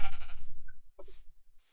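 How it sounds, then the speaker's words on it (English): A sheep in the video game Minecraft bleats in a quick wavering burst, followed by a second shorter bleat, loud and close with no talk over it. "Okay, there's just a sheep right there."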